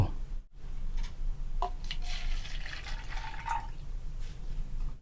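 Coconut water being poured into a glass for black coffee, a soft continuous liquid trickle and dripping at moderate volume with a faint clink, no talking.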